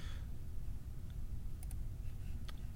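Keys tapped on a calculator during a maths lesson give a few faint, sparse clicks, close together and then one more, over a steady low hum. No one speaks.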